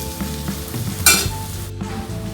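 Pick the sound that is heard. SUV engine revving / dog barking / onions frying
onions frying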